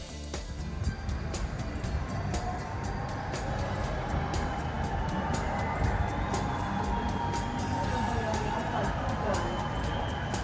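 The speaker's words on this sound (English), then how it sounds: "As we pass under the bridge, passengers on the ship erupt with applause." Cruise ship passengers applaud while passing beneath the Bridge of the Americas at the Pacific entrance to the Panama Canal. A steady wash of scattered clapping rises and continues over rumbling wind and engine noise, with distant cheering and voices.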